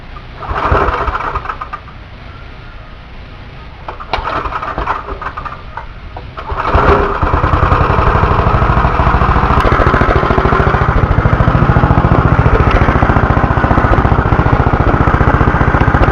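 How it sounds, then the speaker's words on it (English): Go-kart engine with its carburetor recently serviced is pulled over and catches briefly, then fires up and settles into a loud, steady, rapid idle close by with no talking. "we're going to start this rascal up and"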